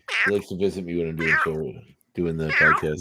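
A house cat meows repeatedly at close range, a few drawn-out calls mixed in with someone talking nearby.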